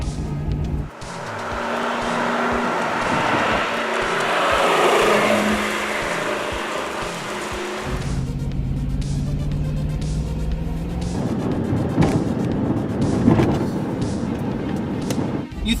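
A 1985 Lamborghini Jalpa engine revs hard at high rpm, a loud, rising mechanical howl heard up close, easing off and then building again with a rougher, throatier roar toward the end.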